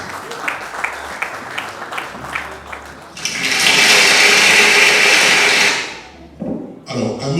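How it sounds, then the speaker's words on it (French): An audience at an evening Christmas celebration breaks into a loud burst of clapping lasting a few seconds after some scattered taps, then it quickly dies away. "Applaudissez pour vous-même encore une fois ce soir."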